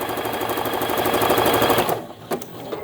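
A sewing machine stitches a quilt appliqué block in a steady, fast, loud mechanical whir. It stops abruptly partway through, leaving a few quiet clicks and taps of the needle and fabric.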